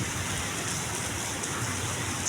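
Steady, dense rain roars evenly throughout in Pasay, a continuous wash of heavy downpour with no voices.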